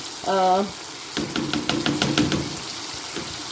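Chicken karahi with green coriander being mixed in a pan: a run of quick, close spoon knocks and scrapes against the metal, following a brief voice.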